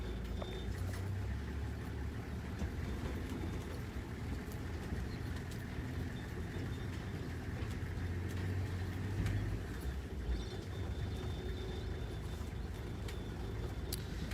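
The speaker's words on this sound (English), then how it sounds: "Just going to drive along the bushes if we can find them." A safari vehicle drives slowly along bushland, with a low, steady engine rumble and faint rattling continuing unbroken throughout, moderately quiet with no talk.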